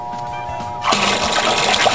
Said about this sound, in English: So now we have to fill up our fry pot with cold water.